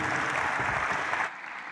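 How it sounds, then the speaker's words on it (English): Audience clapping at a global industry summit's closing ceremony, a dense burst of applause that cuts off sharply after a second or so. "Let's give him a round of applause."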